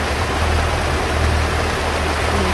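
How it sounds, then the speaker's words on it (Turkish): Heavy rain lashes a boat at sea, a loud, unbroken hiss of downpour over a low, rumbling wash that stays even from start to finish. "Anlaşılmıyor ama çok yağmur var."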